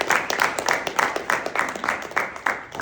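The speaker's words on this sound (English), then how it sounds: "I want y'all to give the men of Alpha Phi Alpha just a round of applause." A crowd of young men in a mentoring program audience gives a round of applause, dense rapid clapping that swells and pulses steadily for several seconds, fairly close and filling the room.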